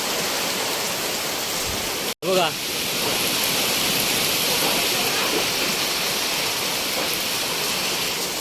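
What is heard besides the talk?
heavy rain and strong wind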